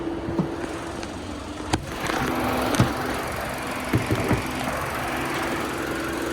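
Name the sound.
2025 Nissan Altima 4-cylinder engine idling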